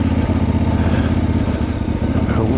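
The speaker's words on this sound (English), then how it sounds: "We'll shut the throttle off in first and see if it'll quite happily tick along." A Voge DS 800 Rally motorcycle idles in first gear with the throttle shut while climbing a slight hill, giving a steady, close, low engine rumble that ticks along evenly throughout, with no talking.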